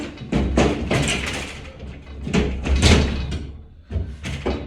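Door being forced and removed during an eviction in France, with a series of loud thumps, bangs and scraping knocks in irregular bursts, close and rough.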